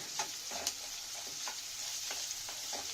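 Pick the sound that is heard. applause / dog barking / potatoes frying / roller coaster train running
potatoes frying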